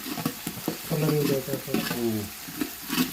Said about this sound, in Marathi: आलं लसूण पेस्ट जे आपण घेतलं होतं ना ते लगेच ते टाकून घेतलेले कांदा टाकून घेतोय आता कांदा चांगला फ्राय होऊ द्यायचा आहे